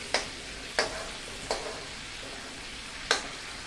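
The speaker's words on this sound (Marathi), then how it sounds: "बटर छान मेल्ट होऊ द्यायचं" Butter melts with a little cumin and mustard seed in a pan, giving a quiet steady sizzle broken by four sharp spoon taps against the metal, spaced irregularly.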